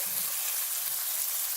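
Vegetables for chicken cacciatore hitting a hot pan, a steady, bright, close hiss of frying that runs without break, with faint stirring bumps beneath.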